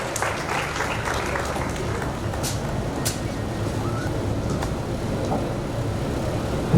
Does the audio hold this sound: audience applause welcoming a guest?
yes